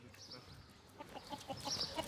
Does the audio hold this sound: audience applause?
no